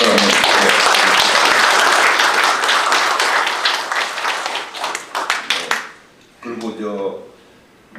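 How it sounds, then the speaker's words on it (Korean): An audience at a general assembly of retired generals bursts into loud, dense applause that thins into scattered claps and fades out, followed by someone speaking. "박수 한번"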